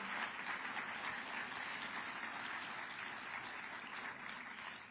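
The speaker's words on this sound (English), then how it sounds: "So how about one more round of applause for all the speakers that went ahead?" Audience applause at a public food-policy event, a dense, continuous round of clapping from a large crowd, fairly distant and sustained for the full length before easing slightly at the end.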